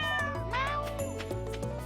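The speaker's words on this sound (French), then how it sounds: "Oh, il faut mon chat, il a soif." A cat meows in the Stardew Valley farming game, several drawn-out, clear meows in succession over steady game music, loud and close with no talk.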